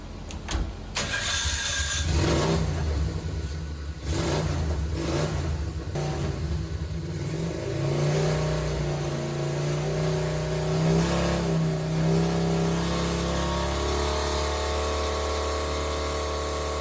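A 200cc V-twin engine with a collector exhaust running on a dyno: a brief starting burst, then a steady mid-pitched drone that revs up in rising sweeps and holds a strained high note before easing, loud and close throughout.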